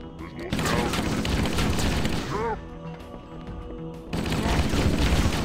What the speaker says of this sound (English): Give me my assault rifle.